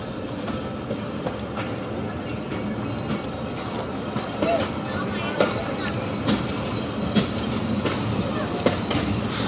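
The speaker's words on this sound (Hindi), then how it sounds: "तो सिर्फ 2 मिनट रुकने के बाद ट्रेन डिपार्ट कर रही है डुमेल रेलवे स्टेशन से।" A passenger train pulling out of Dumel railway station, a continuous rumble with rhythmic clicks and clacks from the wheels and occasional sharp squeaks, sounding close by and steady.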